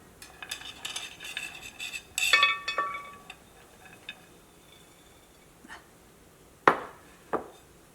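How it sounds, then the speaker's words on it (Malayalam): Fried peanuts tipped into a metal sieve make a quick rattling clatter, then a few scattered metallic clinks and taps, close and fairly quiet. "അപ്പോൾ ഇത് ഞാനൊന്ന് അരിപ്പയിലേക്ക് ഇടാൻ വേണ്ടിയിട്ട് പോട്ടെ"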